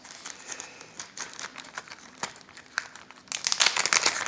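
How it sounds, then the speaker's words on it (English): A sewing machine tension boss is pulled out of a small crinkly plastic bag: close, irregular crackling and rustling that grows busier and louder toward the end, with no talking. "You get it out of the little plastic bag that it comes in."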